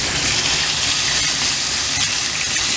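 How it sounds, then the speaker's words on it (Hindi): A glass of water is poured into a hot pot of oil and mint for plain biryani rice, setting off a loud, continuous hiss of steam and bubbling, close and unbroken. "1 गिलास पानी डालेंगे।"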